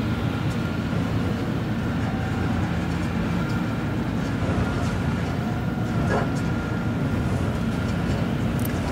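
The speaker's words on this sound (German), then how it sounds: "Da drüben fährt gerade ein Zug." A train rolls past at a distance in Star Citizen, a steady, even rumble that holds for the whole stretch with no clear peaks, and someone talks quietly over it.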